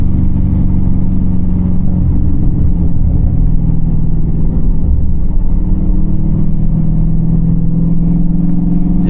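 A tuned, catless Dodge 392 Scat Pack V8 pulls hard under acceleration, a loud, deep, continuous exhaust rumble heard from inside the car with no speech.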